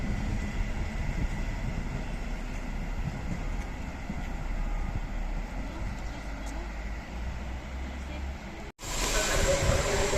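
A train in Poland rumbles steadily nearby with low mechanical noise and hiss, the sound shifting abruptly near the end as it moves off; voices talk over it.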